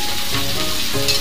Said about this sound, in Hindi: अब हम इसमें जीरे डाल दिया है टेबल, अब मिर्ची डाल रहे हैं, इसके बाद प्याज डाल रहे हैं।